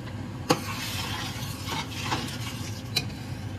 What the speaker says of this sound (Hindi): तड़का लगा दिया मैंने